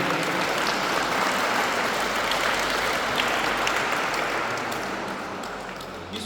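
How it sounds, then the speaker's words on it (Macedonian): Sustained applause from the crowd at the opening ceremony of the 2024 Viktor Iloski memorial football tournament, a dense, steady wash of clapping that carries on throughout and fades slightly near the end. "Ве замолувам се голем аплауз да ги поздравиме сите."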